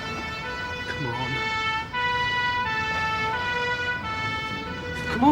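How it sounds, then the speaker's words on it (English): An ambulance siren wails loudly in steady repeating tones, close by and dominant, with faint voices underneath. "Make sure the ambulance sees us, will you?"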